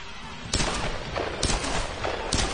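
Gunfire in the Tomb Raider video game, three loud sharp gunshots spaced roughly a second apart over a dense, roaring game background, close and punchy.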